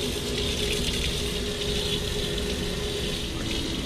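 An RV water pump runs, pushing water through a Truma heater in a 2020 Wonder RTB on a Ford Transit chassis; a loud, steady rush of flowing water with a continuous mechanical drone, no pauses.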